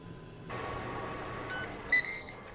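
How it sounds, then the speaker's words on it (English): A Ninja Crispi air fryer signals the end of its cycle with two short electronic beeps that ring out clearly over a steady fan hum. "the Ninja has let us know when it's finished with that air fryer cycle"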